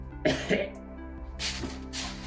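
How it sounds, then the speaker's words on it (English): A couple of close coughs followed by two breathy, hoarse bursts, over a steady low hum. "Who coughed?"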